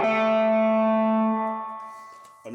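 A single electric guitar chord rings out with warm, mild Tube Screamer-style overdrive from a Boss ME-90 multi-effects unit and slowly fades, followed by a quick pluck of another note.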